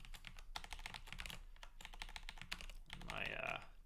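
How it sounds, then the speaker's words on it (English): Rapid typing clatters on a computer keyboard in bursts with short pauses, close and fairly quiet, while a voice talks over the keys toward the end. "my typing is really lagging at the moment"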